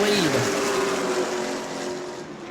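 Race cars lapping the track during heat races at New Smyrna, among them the 12 and 58 cars, give a continuous loud engine drone, with one car's pitch sliding downward as it passes close by.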